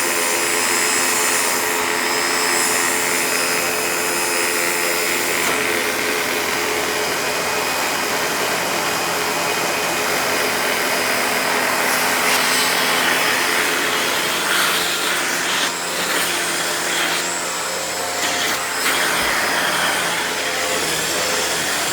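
A Panasonic Performance Plus MC-V5217 upright vacuum cleaner runs continuously, a loud, steady motor whine and airflow roar close up, with slight shifts in tone as it is moved.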